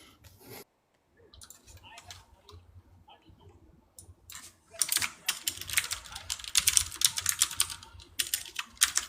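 Computer keyboard typing, sparse soft clicks at first and then a dense, louder run of rapid keystrokes close by, with faint low murmur underneath.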